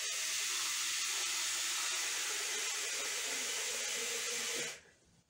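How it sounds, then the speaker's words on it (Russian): Water pours in a steady, loud, close hiss for almost five seconds in a home kitchen, then cuts off abruptly, leaving quiet. "Сейчас я воды налила."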